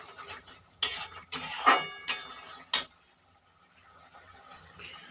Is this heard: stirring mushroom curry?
yes